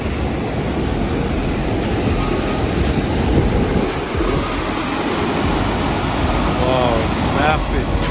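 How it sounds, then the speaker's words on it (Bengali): A waterfall in Mingan Archipelago National Park rushes as a steady, distant broadband hiss heard from a walking path, unbroken throughout. "পানির শব্দ পাচ্ছি এখান থেকেই"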